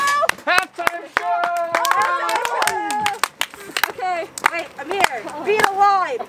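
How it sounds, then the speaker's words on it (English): Hands clap in a steady marching rhythm during a playful half-time show on a summer day, sharp claps alternating with chanted counting and excited children's voices throughout. "Right, clap, left, clap, right, left, clap, right, clap, right."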